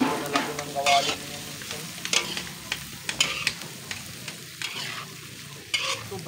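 Duck pieces sizzle in a wok over a very strong flame, with repeated scraping and clanking of the stirring utensil against the pan over a constant frying crackle, close and fairly loud.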